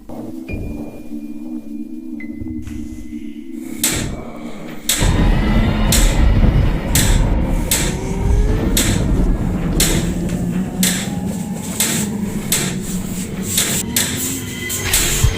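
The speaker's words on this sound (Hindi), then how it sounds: "गेट क्यों बजा रहा?" A metal gate rattles and clanks in repeated bursts at night, close and fairly loud, with a steady hum beneath and a brief tone at the start; no one speaks.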